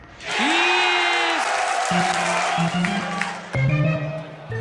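Darts crowd bursts into loud, sustained applause and cheering filling the hall, with a whistle-like tone and shouting voices rising through the clapping before a second surge near the end.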